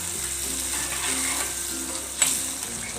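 Spinach paste cooking in oil with kitchen king masala, giving an even, bubbling sizzle close by with a light scrape of stirring partway through; no one speaks.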